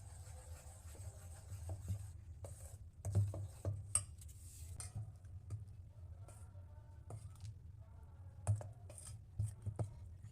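Oreo brownie batter mixed in a bowl gives soft, irregular scraping and tapping of a utensil against the bowl, with a quiet low background hum between the knocks.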